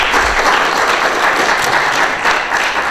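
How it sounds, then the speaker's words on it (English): An audience gives a round of applause at an event at the H. L. Mencken House, a full, steady roar of many hands clapping throughout, loud and close. "Can we have one more round of applause?"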